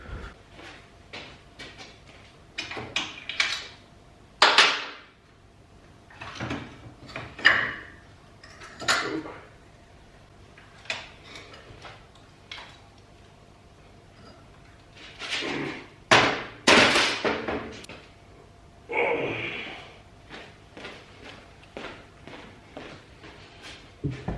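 Metallic clanks, knocks and scraping come at irregular intervals as a Honda Grom engine is muscled out of its frame in a workshop, with brief quiet gaps between bursts.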